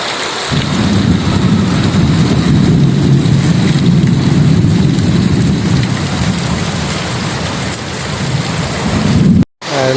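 A sudden torrential Konkan downpour with wind and thunder: loud, sustained rain and deep rumbling thunder rolling underneath for most of the stretch, cutting off abruptly near the end, no talking.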